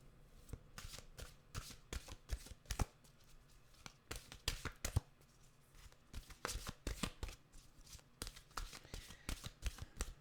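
Mantra cards are shuffled and cut by hand in a quiet room, giving rapid, close riffling bursts and soft slaps in an irregular rhythm.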